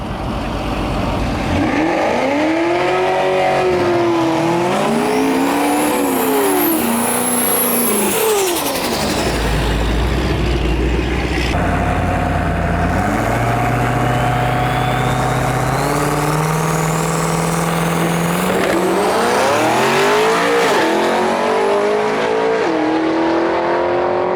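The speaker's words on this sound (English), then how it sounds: "we got Bryce Nicholson pulling up to the line with the Duramax Powered Nova" Chevrolet Nova with a swapped Duramax diesel engine at a drag race starting line, loud revving with rising and falling pitch sweeps, heavy low rumble, and a sustained roaring pull that builds toward the end.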